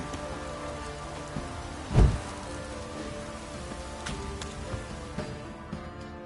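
Steady light rainfall in a PS4 video game, pattering on surfaces, with one brief thump partway through and scattered soft drops; no voices.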